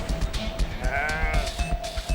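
Sheep bleating in a wild setting where predators prey on flocks, a wavering tonal call near the middle standing out over steady background noise, with no speech.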